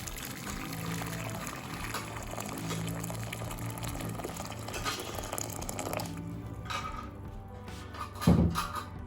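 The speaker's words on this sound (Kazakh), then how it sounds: "Қазір мен мына ыдысқа ыстық су құямын." Hot water is poured steadily into a kitchen vessel used for rendering goose belly fat, a continuous rushing, splashing flow with a brief louder splash near the end.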